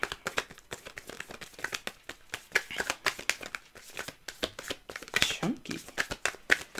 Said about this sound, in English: Ooh, these cards shuffle chunky.